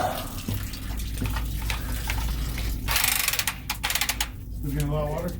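Water gushes from a freshly cut 1-inch type L copper pipe with pinhole leaks, a sudden loud splashing rush after a few seconds of tool noise and clatter, while people talk nearby.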